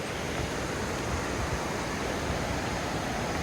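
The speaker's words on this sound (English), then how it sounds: "All the water is roaring right through this Sweetwater Creek." Water roaring through Sweetwater Creek in Georgia, a loud, steady, broadband rush of flowing rapids that fills the whole stretch without a break and with no voices.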